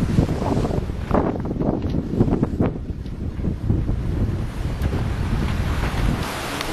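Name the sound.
wind gusts and waves during a squall on a sailboat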